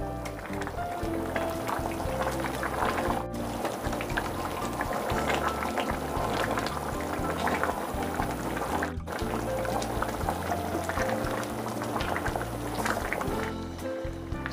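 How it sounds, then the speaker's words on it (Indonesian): Sambal tumpang from East Java simmering with coconut milk while being stirred, a continuous close bubbling and gurgling at an even level with faint scraping, no voice over it. "Sambil diaduk-aduk ya teman semua,"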